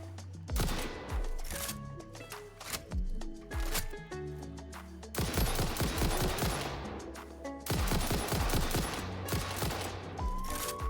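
A rifle in the video game Satisfactory firing repeated rapid volleys, loud and close, with short pauses between bursts and game effects ringing underneath.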